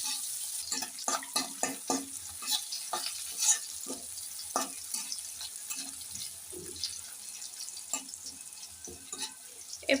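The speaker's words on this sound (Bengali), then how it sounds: "আমি গরম তেলের মধ্যে দিয়ে দিচ্ছি পেঁয়াজ কুচি।" Chopped onions fry in hot oil in a pan for a fish and pumpkin bori curry, with steady close sizzling and repeated scraping stirs, plus a faint trickle of tap water now and then.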